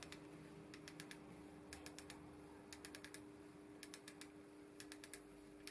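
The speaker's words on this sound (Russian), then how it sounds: "Вот, можете послушать, как тут звучат щелчки." A coilover suspension's adjuster knob is turned by hand, producing crisp, close-up mechanical clicks in quick bursts of three or four, repeated evenly with short pauses and no talking.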